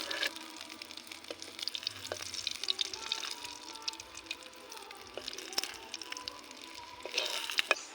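Chopped onion fries in oil in a pan for an egg curry, a soft, steady sizzle and crackle with occasional stirring scrapes, close and fairly quiet.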